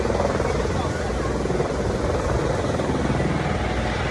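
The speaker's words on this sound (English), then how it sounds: "We're coming to do our helicopter tour here at Maverick" Steady, loud helicopter rotor and engine roar from a tour helicopter flying from Las Vegas over the Grand Canyon fills the whole stretch without a break, with voices faintly mixed in underneath.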